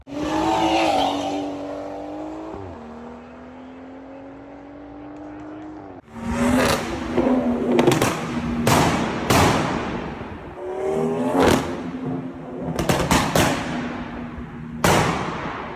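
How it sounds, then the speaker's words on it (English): A loud, raspy BMW Gen 1 B58 engine with a catless downpipe, full straight-pipe exhaust, idles low, then revs hard several times in quick bursts with crackling pops between throttle blips, close to the microphone. "a Gen 1 B58 with a catless downpipe, basically a full straight pipe exhaust"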